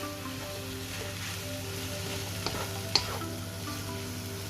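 Asian stir-fry noodles sizzle in a hot pan while everything is mixed together, a soft steady frying hiss with a couple of faint scraping clicks of the utensil.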